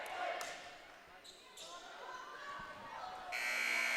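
A loud, sustained electronic buzzer at a 2022 high school basketball game between the Sterling Black Bears and Moundridge Wildcats sounds near the end, over crowd noise and an announcer talking.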